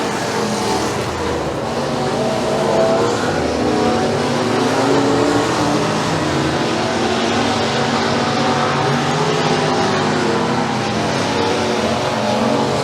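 Pure stock race cars roar around a dirt oval at McKean County Raceway during a feature race, a dense continuous engine drone at steady volume with no clear individual pass-bys.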